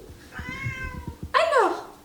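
A house cat lets out a drawn-out meow, then a second louder, rising-falling meow, close by, over some soft background bumps and noise.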